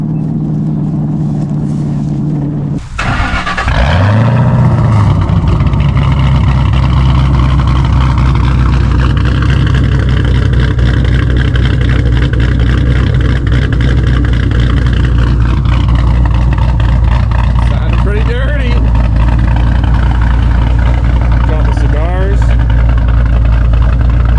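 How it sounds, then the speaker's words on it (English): A 2003 Chevrolet Corvette C5 gives a loud, close engine drone that surges as it pulls away and then holds a steady rumble while driving. Shifts in pitch come through as it accelerates. "2003 Corvette C5."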